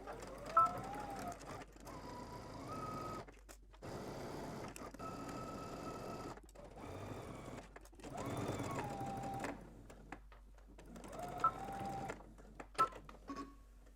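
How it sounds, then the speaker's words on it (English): A sewing machine stitches a dress seam in several bursts of rapid whirring stitches, stopping and starting between runs, close and clear. "Now let's go ahead and head to the sewing machine. We're going to start stitching at the bottom"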